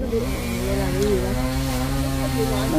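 A chainsaw with a clogged carburetor runs nearby, its engine droning with wavering pitch as it revs and bogs instead of climbing cleanly; faint talk may sit underneath.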